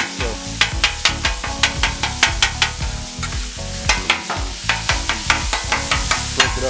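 Ground beef fries on a Blackstone griddle with a constant loud sizzle, while a spatula scrapes and chops it in a steady, quick rhythm of close, sharp strokes and no talking.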